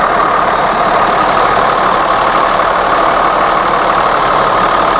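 A 7.2 liter Mercedes OM 926 diesel idles in the rear engine compartment of a 2008 Thomas Saf-T-Liner high-roof school bus, a loud, close, steady rumbling drone with no change in pace.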